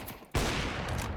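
Gunfire erupts in the video game Counter-Strike, a sudden loud burst of close shots blending into a dense rattling fusillade that continues to the end.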